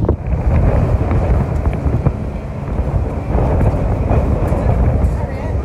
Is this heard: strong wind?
yes